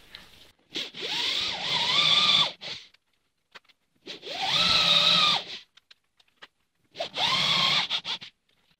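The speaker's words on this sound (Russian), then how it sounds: "Сверлим следующее." A drill bores holes in a car bumper for parking sensors in three separate bursts of a couple of seconds each, with a high whine and grinding, and short quiet gaps between them.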